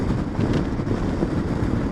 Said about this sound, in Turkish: Hava da yavaş yavaş ısınmaya başladı ama rüzgar hala devam ediyor.